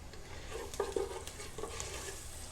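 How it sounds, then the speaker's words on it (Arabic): Onions with salt are stirred in a hot pan, giving a soft steady sizzle with a few scraping stirs of the utensil against the pan, fairly close and without talk. "ونحرك البصل قليلا، بصل وملح"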